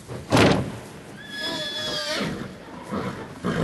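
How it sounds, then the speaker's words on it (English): Several horses in a stable whinny and neigh nervously, one long quavering call rising above a loud thump and scuffling, with further agitated snorts and movement close by. "The bang of the door when Jessica left the stable echoed between the walls, scaring the horses and causing them to neigh nervously."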